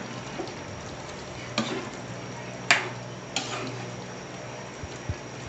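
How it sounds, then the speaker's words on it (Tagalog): A dish of chopped chilies being stirred in a pan during home cooking, quiet frying sizzle under a handful of sharp clinks and scrapes of a utensil against the pan, spaced irregularly, with no talking. "May haluin ko."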